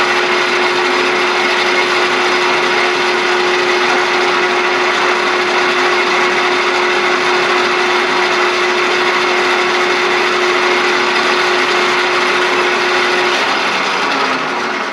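A steady, loud machining cut on metal runs for about thirteen seconds while making an R8 arbor, with a constant whine and broad grinding hiss. The whine drops away near the end.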